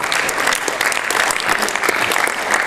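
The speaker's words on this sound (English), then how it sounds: "give them a round of applause as well." A high school audience at a Healthy 100 event gives loud, dense, continuous applause, many hands clapping close together throughout.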